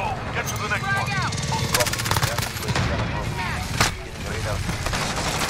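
Rapid gunfire bursts and battle noise from the video game Call of Duty Mobile, with an MP7 in a Modern Warfare match, dense crackling shots mixed with radio-style voice lines and a player talking over it.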